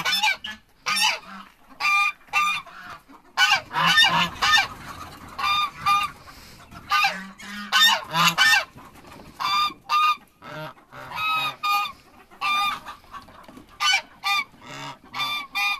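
A goose honks repeatedly and loudly at close range, a busy stream of harsh calls in irregular bursts with short gaps.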